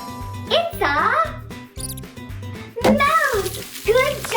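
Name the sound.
mouse squeaking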